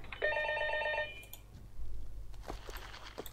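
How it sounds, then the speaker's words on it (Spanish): In World of Warcraft: Warlords of Draenor, a telephone rings with a bright electronic tone for about a second near the start, followed by soft rustling and shuffling sounds. "Un teléfono suena por ahí."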